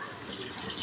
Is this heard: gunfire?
no